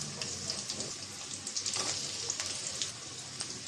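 Chopped onions and green chillies fry in hot oil for a mixed vegetable curry, giving a steady, close crackling sizzle with small pops throughout and no voices.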